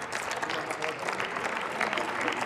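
Steady applause fills a session of the German Bundestag, a dense, even patter of many hands clapping throughout with no break.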